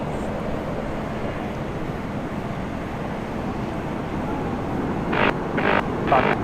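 A landed airliner at Sydney International Airport rolls out in a broad, steady engine roar heard from a distance, with wind buffeting the microphone and a few brief bursts of hiss near the end.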